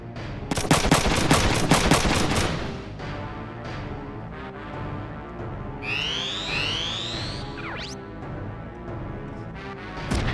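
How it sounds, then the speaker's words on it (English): Rapid machine gun bursts from a mech in the Front Mission 3 video game rattle loudly at first, then give way to lighter impacts and sweeping electronic effects. "he's attacking with the machine gun now"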